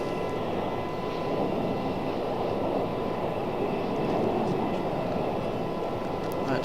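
A JetBlue jet airliner at Raleigh-Durham airport gives off a steady, moderately distant engine rumble and whine that holds at an even level throughout.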